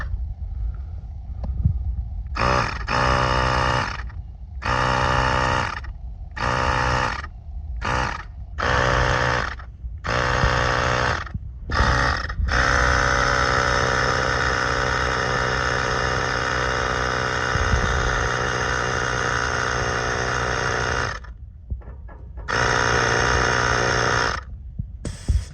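A Ryobi 18V digital tyre inflator pumps up a bike tyre with a close, loud motorised buzz. It starts and stops in short bursts at first, then runs continuously for about ten seconds before a brief pause and a final burst.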